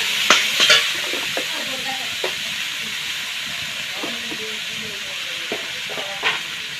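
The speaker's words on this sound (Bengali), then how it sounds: "এখন আমি নাড়াচাড়া করে এই আলুর পুরটা বানিয়ে নেব" Grated potato filling with salt being stirred in a hot pan, a steady sizzle of frying under repeated scraping and clinking strokes of the spoon, close up with no talking.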